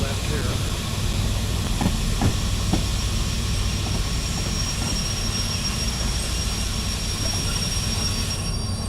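A train running in the railway simulator game Derail Valley produces a continuous loud rumble with a low engine drone, a few clunks early on and faint rail squeal, all steady throughout.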